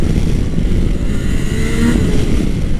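A Yamaha Niken three-wheeled motorcycle rides mountain roads in Corsica, its engine a steady, loud, close drone with wind rush and a slight rise in pitch near the end, no voices over it.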